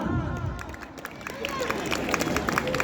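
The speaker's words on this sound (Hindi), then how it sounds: "एक बार तालियां बजाकर इनका उत्साहवर्धन करें" An audience at a school annual function and poetry gathering claps to welcome the poet Ballu Balwan, steady crowd clapping and hubbub filling the hall, with a voice calling out at the start.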